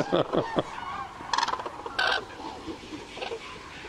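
Common cranes give several bugling, trumpeting calls at mid distance, in short bursts over a noisy outdoor background.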